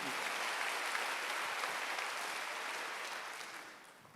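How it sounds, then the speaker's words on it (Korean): A church congregation applauding together during a Wednesday worship service, dense steady clapping that fills the room, then thins and fades toward the end, with no voices over it. "박수 하나 더 있어요."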